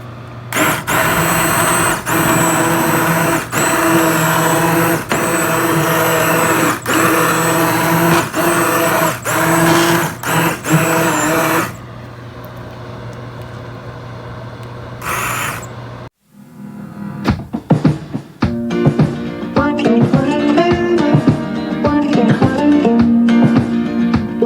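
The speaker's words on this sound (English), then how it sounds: "now I'm going to use my hand blender and blend it all up into applesauce" A hand blender purees cooked apples into applesauce, a loud steady whirring with brief pauses and cuts, followed by clattering and scraping near the end.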